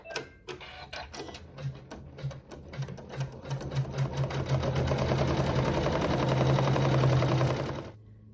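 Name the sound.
sewing machine quilting and satin stitching fabric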